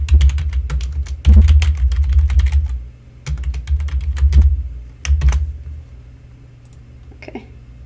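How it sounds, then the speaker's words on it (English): Bursts of rapid key clicks as a search is typed on a computer keyboard, loud and close, with short pauses between runs and a faint low hum underneath. "I'm going to type in that search."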